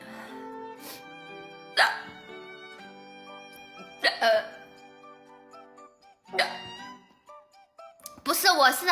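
Rapid hiccups from a woman struggling with nausea, sharp bursts recurring at quick, uneven intervals, close and fairly loud, amid breathy gulps and tonal background sound.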